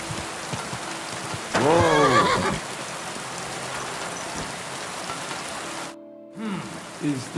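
A horse whinnies once, loud and close, amid steady rain pattering on the ground in a medieval role-playing game, with faint hoof clops and brief low tones near the end.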